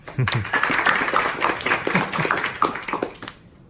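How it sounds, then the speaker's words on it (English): An audience applauds Dr. Andrea Leong, Science Party policy officer and Wentworth by-election candidate, with a brief burst of scattered clapping, individual claps standing out, that fades after a few seconds. "And now, please applaud again for Dr."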